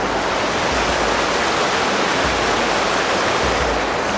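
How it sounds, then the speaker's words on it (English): The Wallowa River in the Eagle Cap Wilderness rushes in a loud, steady broadband roar, continuous and close, with no voices. "We've got the Walowa River down here."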